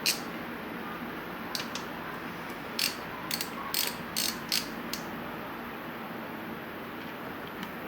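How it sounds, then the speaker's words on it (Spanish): Ratchet with a 12 mm socket loosening the oil drain plug on a Honda Navi scooter, sharp clicking bursts in short irregular runs, close and fairly quiet, with pauses between strokes and no talk. "ahora vamos a quitar el tapón del aceite con un maneral y un dado de 12 milímetros"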